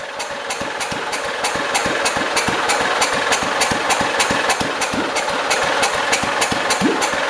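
A 1972 John Deere 112 lawn tractor engine idles steadily up close, a loud, even chugging with a regular pulse and slight knocking throughout, no voices.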